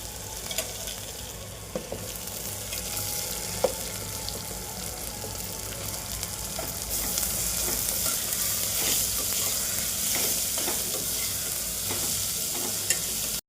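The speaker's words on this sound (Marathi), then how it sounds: "कांदा तीन मिनटं परतून घ्यायचं" Onion sautéing in a pan with spice paste for masale bhaat, a steady broadband sizzle with scattered spoon scrapes and stirring clicks, growing louder and brighter about halfway through, close and continuous with no talk.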